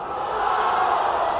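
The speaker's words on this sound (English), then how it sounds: "You can hear the crowd engaged and involved" Crowd noise from spectators at a women's football grand final in the 2023 NTFA Premier Division, a steady, fairly loud wash of engaged voices and calls that holds throughout.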